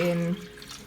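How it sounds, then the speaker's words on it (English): A room-temperature honey syrup is poured into filtered water while making elderflower champagne, giving a brief splashing pour that cuts off after about a third of a second, followed by faint trailing liquid noise. "then I'm going to add my syrup, which is the honey mix, which is at room temperature now"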